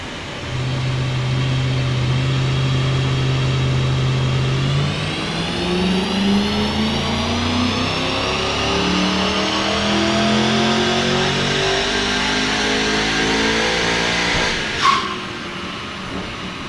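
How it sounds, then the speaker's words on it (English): A 2000 BMW M5 engine revs on a dyno run, climbing steadily and loudly through a long sustained pull before cutting off sharply near the end, with no talk. "When they do 3 runs on a dyno, I'll try and insert a dyno clip here if I can."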